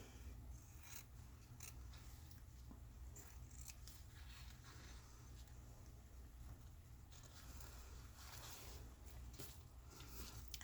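Scissors snip through parchment paper to cut out a small journal tag, a series of quiet crisp cuts over faint background hiss.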